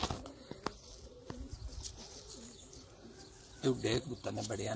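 Sialkoti pigeons calling near and far in a loft setting, soft coos and brief bird sounds scattered over steady outdoor background noise, with a louder burst of cooing near the end.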